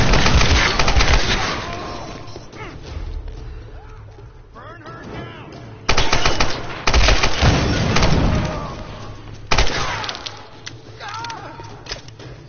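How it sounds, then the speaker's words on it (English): Machine gun fire in the Tomb Raider video game, with loud bursts of rapid shots crackling in several bouts amid shouting voices and other action sounds. "She has a machine gun!"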